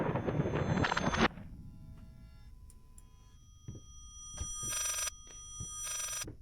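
A telephone ringing backwards in the horror video game Layers of Fear: reversed ring bursts that swell and cut off abruptly, separated by quiet hum and scattered clicks.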